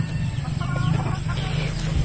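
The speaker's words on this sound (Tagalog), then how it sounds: "Daghang manok." Chickens cluck softly over a steady low hum outdoors, the fowl sounds faint and intermittent beneath the background noise.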